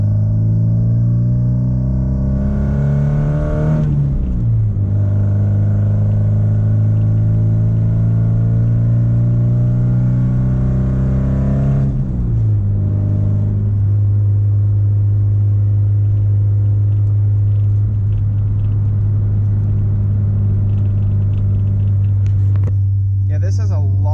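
A 1986 Porsche 944 engine drones steadily at low revs, shifting pitch as it accelerates and changes gear, loud and close from inside the cabin.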